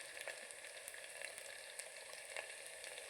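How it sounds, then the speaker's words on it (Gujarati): Green chili and ginger frying gently in a pan over low heat, a faint, even sizzle with a few soft pops and no voices. "અને મરચાં આદુને થોડીક વાર આપણે પાકવા દઈએ ધીમા ગેસથી"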